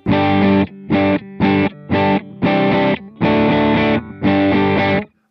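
Heavily distorted chords on a PRS SE Zach Myers electric guitar strummed in short, chunky bursts with tight gaps between them, loud and close, ending abruptly in silence.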